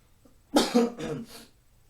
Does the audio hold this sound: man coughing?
yes